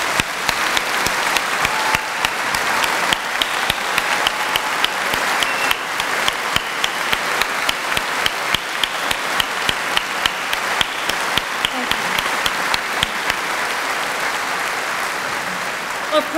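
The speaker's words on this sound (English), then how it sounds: "Let's give them a round of applause." A hall audience at an Open University degree ceremony in Birmingham applauds standing staff, a long, loud, even wash of clapping with regular sharp claps that carries on for over sixteen seconds.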